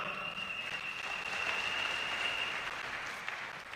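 A crowd at a political gathering in Kiambu gives a sustained round of applause, a dense even wash of clapping that holds at steady loudness throughout.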